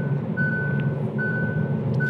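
A 2023 Kia Proceed facelift's lane-assist driver warning beeps in repeated long, steady high tones over the low drone of the car's cabin and road noise, with no talking.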